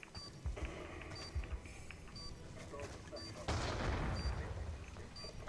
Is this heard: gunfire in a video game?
yes